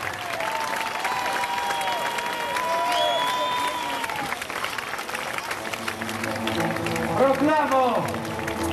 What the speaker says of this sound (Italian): Un applauso per il Cavaliere della Gazza.